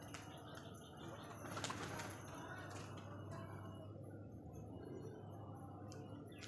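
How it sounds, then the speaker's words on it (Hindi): A flock of pigeons released from a locked coop in the morning, wings flapping as they burst out and fly off fast, with faint coos and chirps amid low background hum. "अब इन्हें छोड़ेंगे और देखो कितनी स्पीड से उड़ेंगे।"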